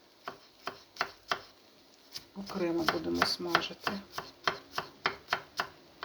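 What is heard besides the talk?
chopping garlic finely with a knife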